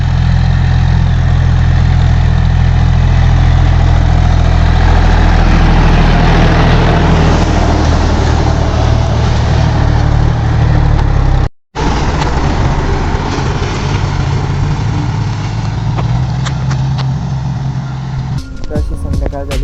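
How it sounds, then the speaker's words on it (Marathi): A tractor engine runs loud and steady while making raised beds in a field for chilli planting, a constant heavy low-pitched drone that dips briefly near the middle and then carries on. "आपण अशा पद्धतीने ट्रॅक्टरने बेड काढणं सुरू केलेले आहेत."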